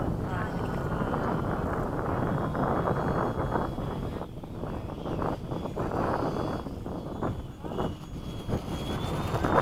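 An FMS 80mm Hawk model jet airplane comes in to land on a runway, its steady ducted-fan whoosh continuous and fairly loud throughout, with wind noise and people talking over it.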